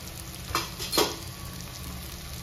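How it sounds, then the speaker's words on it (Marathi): Onions sautéing with asafoetida in a pan for a cauliflower and pea curry: a faint, steady sizzle with a couple of soft stirring scrapes near the start. "आणि थोडंसं ह्याच्यामध्ये परतून घ्यायचं. आता कांद्याबरोबर आपण परतायचं."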